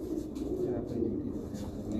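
Soft, steady cooing of a large pigeon, fairly close, with low murmuring voices blending underneath throughout.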